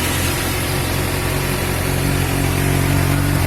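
A 2019 Honda CBR600RR sport bike on its stock exhaust runs steadily at close range, a constant engine drone with a low rumble holding even throughout, no talk over it.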